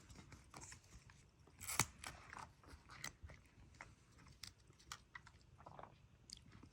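Someone chews a mouthful of rice and chicken up close, quiet, irregular wet chewing and soft crunching bites with a few louder clicks, with no talking.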